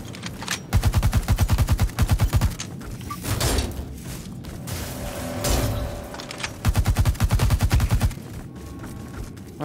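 Enemy gunfire in The Surge 2 video game, rapid automatic bursts of shots in two loud volleys with a pause between, plus a couple of heavier thuds and mechanical clanks.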